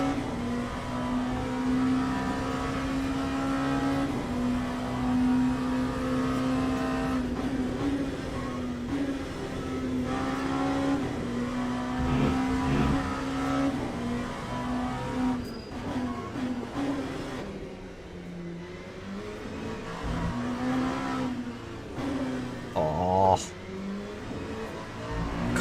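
Race car engine in the Le Mans Ultimate racing game, a steady droning tone holding pitch with small revs and shifts through most of the stretch, loud and continuous, with someone talking over it.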